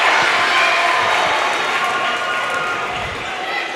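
The Spring Hill Broncos crowd cheers at a 5A girls' basketball sub-state championship game in a gym, a loud, sustained roar of shouting voices that eases slightly toward the end, with sneaker and ball sounds faint beneath.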